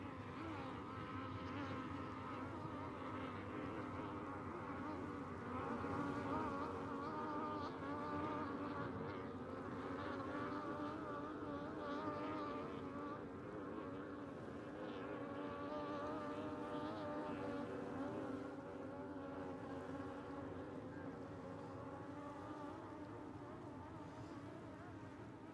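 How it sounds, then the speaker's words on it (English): A motorboat moves away from a dock on a bay at a sailboat race, its engine droning steadily and fairly faint with a buzzing, wavering tone, heard alone with wind and no talk. "I see a boat coming away from the dock way up at the top end of the race course"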